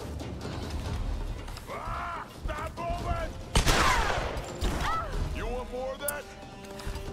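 Gunfire in the video game Tomb Raider comes as a sharp burst of shots amid clattering action sounds and game voices talking over it.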